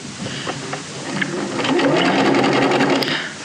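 Sewing machine stitching a piped seam at a 1.5 cm seam allowance, running continuously up close and loud, with a few faint clicks before the stitching speeds up.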